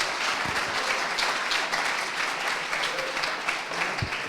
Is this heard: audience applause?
yes